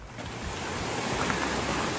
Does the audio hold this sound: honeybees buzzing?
no